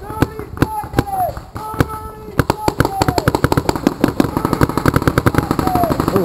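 Paintball guns fire in rapid bursts of sharp pops across an outdoor village-style paintball field, the shots crowding into fast volleys over a steady background, with players talking and shouting nearby.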